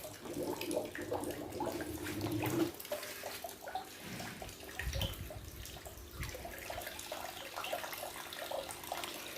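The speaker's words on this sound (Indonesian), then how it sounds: "Sekarang mari kita coba nyalakan pompanya." An aquarium sump filter pump switched on, sending a steady rushing flow of water that starts with a louder gush and continues as a constant trickling splash.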